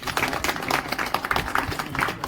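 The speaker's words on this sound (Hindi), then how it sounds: "सबके सब ताली बजा के स्वागत करेंगे" An audience claps to welcome a film crew at a Chhattisgarhi film event, with dense, steady applause sustained throughout, close and fairly loud.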